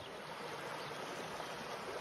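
A small stream flows steadily beneath a little footbridge on a walking trail, a continuous soft rushing and trickling of water with no voices.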